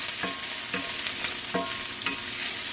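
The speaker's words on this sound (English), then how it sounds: "I'm going to go ahead and saute these vegetables here." Vegetables sauté in butter in a pan with a steady, loud sizzle, and a utensil stirs them in a few regular scraping strokes. No voices.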